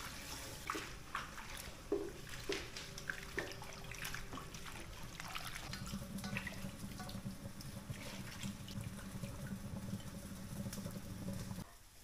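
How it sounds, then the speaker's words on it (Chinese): Chopped pickled cabbage rinsed under a running kitchen tap, a steady close rush of water with occasional faint clinks and splashes, no talk. "切完之后再洗两遍"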